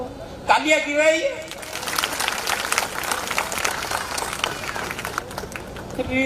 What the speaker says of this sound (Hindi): तालियां गिराइए।